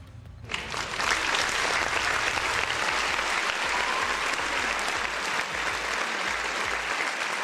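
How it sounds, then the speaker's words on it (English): A round of applause from an audience that starts abruptly after a short quiet moment, then holds as dense, even clapping that stays loud and steady to the end, with no voices. "A round of applause because she is right."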